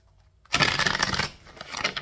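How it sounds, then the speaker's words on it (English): A deck of playing cards being shuffled in one quick burst that starts abruptly and rustles on, close and fairly loud, with no talking. "did I just shuffle the deck?"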